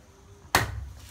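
A bolo knife strikes the top of a young buko coconut in the Philippines with one sharp, close chop that rings briefly and dies away against quiet surroundings.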